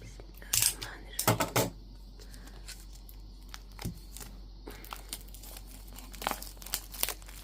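A new matte planner notebook is unwrapped and opened, with close crinkling of plastic wrap in a few sharp bursts, then softer scattered rustles and taps, heard up close without talk.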